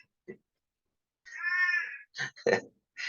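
A pet cat gives one drawn-out, close meow in an otherwise quiet room, then a few short, choppy sounds follow.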